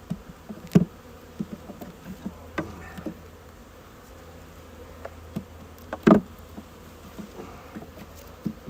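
Honey bees buzz during a February hive inspection, a low hum close by with scattered knocks and bumps of frames and tools handled at the open hive.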